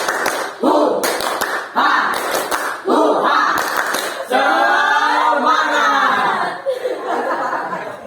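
Participants in a group counselling session clap out the 'tepuk semangat' rhythm again, a few rapid clusters of claps followed by a group shout and some laughter.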